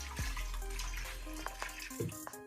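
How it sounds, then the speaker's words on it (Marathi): Water poured from a small pot onto chopped raw young jackfruit before pressure cooking, a soft close splash and trickle with a couple of brief pouring bursts, no talking. "आपल्याला थोडंसं पाणी टाकून घ्यायचं आहे."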